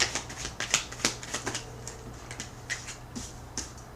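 Tarot cards are shuffled close by, producing rapid riffling and flicking snaps in uneven clusters, quiet and crisp against a faint background.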